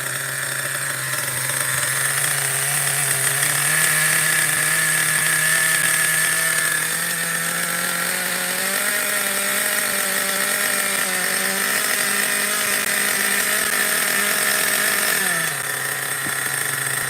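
Schumacher XTR-3E nitro RC car engine running continuously at a high, buzzing rev, close and loud, with the pitch rising and falling slightly as the throttle shifts, and no voices.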